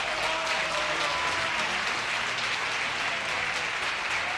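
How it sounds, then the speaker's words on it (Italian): Steady, dense applause from a large crowd at a political event in Italy, continuous and even throughout without breaks. "Ora è un particolare piacere accogliere e accoglierlo con un grandissimo applauso Fabio Roscani."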